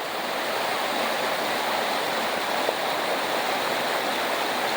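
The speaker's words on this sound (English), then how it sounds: "Beautiful rushing water." A stream's rushing water pours steadily near a trail toward a visitor center, a dense, loud, unbroken roar with no voices.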